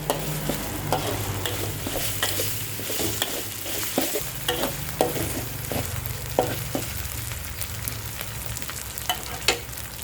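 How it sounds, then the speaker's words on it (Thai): Steady sizzling of wild boar curry paste being stir-fried in a pan on low heat, with intermittent scraping and tapping of a utensil against the metal. "ผัดไฟอ่อนๆนะครับ"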